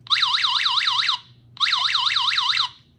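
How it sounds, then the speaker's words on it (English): Two loud bursts of a warbling electronic siren from a GPS ankle bracelet alarm, rated 95 decibels, each about a second long with a short gap between, piercing and close. "we got a 95 decibel siren in here"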